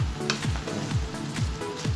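Shredded cabbage being stir-fried and tossed for chop suey in a hot pan, a steady close sizzle with repeated scraping strokes of the spatula at a regular rhythm, no talking.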